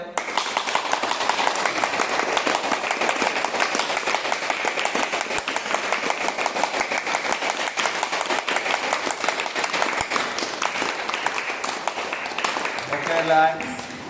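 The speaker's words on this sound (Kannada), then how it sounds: "ಜೋರಾಗಿ ಚಪ್ಪಾಳೆ" A yoga class in Hadagali claps loudly and rhythmically in unison, a fast even stream of sharp claps sustained for many seconds, ending with a brief tonal sound.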